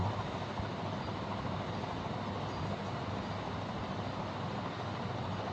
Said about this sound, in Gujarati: હા ટ્રેન સવારી જો